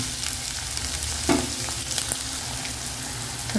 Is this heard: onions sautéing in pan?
yes